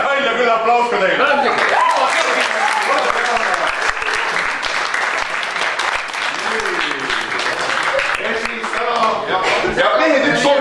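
An audience claps in loud, sustained applause alongside dense overlapping speech and some laughter, with the clapping and voices mixed together the whole way.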